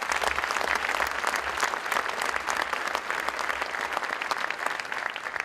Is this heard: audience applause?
yes